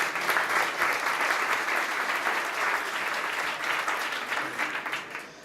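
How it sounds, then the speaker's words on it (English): Audience applause at a startup competition finals for travel and tourism companies: dense, steady clapping from a large crowd filling the whole stretch, tapering slightly at the end. "Big pleasure, big applause."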